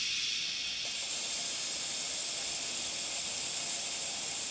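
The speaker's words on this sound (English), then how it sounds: "Now you have a lot of steam pressure" The steam wand of a La Pavoni Europiccola lever espresso machine, at full steam pressure, lets out a loud, continuous broadband hiss. It holds steady and close for several seconds with no voices.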